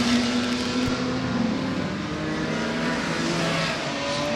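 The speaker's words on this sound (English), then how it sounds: "Harry Wyndham certainly trying all sorts of lines as he comes into St Mary's" Vintage race cars at the Goodwood Revival, including a Radford Racing Jaguar E-Type heading into St Mary's, roar past with a steady loud engine drone that holds throughout, no voices over it.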